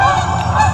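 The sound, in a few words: geese honking, sound effect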